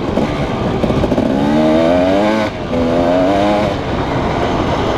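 A Husqvarna dirt bike engine on a trail ride near Kitchener, NSW, Australia drones loudly and close. It climbs in pitch twice, dips briefly between the climbs, and stays steady and loud under wind.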